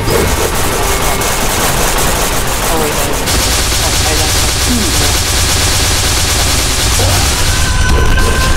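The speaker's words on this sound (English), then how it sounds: "Yanni's shooting me" Rapid bursts of gunfire from a Roblox-style anime fighting game, YBA (Your Bizarre Adventure), crackle continuously and loudly through the whole stretch, with dense noisy shots and game effects layered over one another.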